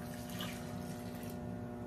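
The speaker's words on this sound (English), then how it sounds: "I'm gonna put a half a cup of water." Half a cup of water poured into a cooking pan, a faint steady running trickle over a low background hum.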